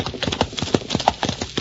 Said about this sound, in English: Diane, I cannot catch Zulika on this horse.